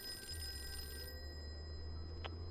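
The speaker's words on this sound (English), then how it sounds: "Okay, I'll answer the phone then." A telephone rings inside the Call of Cthulhu video game, a steady electronic bell tone over low background music, then cuts off partway through.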